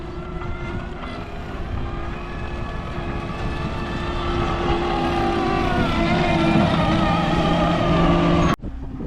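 A skid steer works on a farm, its diesel engine running in a loud, steady drone with a rising mechanical whine, close by, ending with a sharp clunk.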